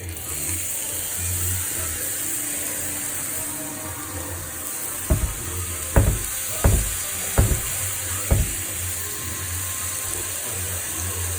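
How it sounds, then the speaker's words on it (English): Steak goes into hot oil in a frying pan: a steady sizzling hiss runs throughout, broken by five sharp knocks in quick succession partway through. "So now that the oil is kind of hot, you can put the meat in there."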